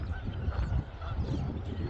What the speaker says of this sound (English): one type of geese